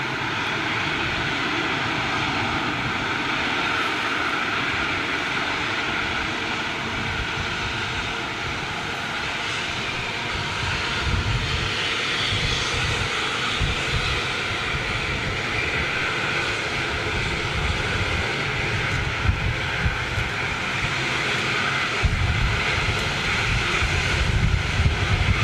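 A big jet aircraft passes low near Manchester Airport, producing a loud sustained engine roar and rumble that holds steady and swells slightly over time.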